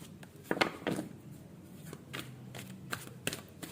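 Tarot cards are shuffled in short papery riffles and slaps at an irregular pace, close and moderately loud, during a zodiac reading with no talk.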